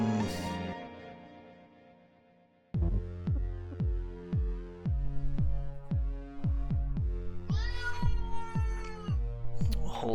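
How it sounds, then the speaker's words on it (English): A house cat yells with a short, insistent meow at the start and another drawn-out cry later, heard over plucky, rhythmic game music. "My cat is yelling at me."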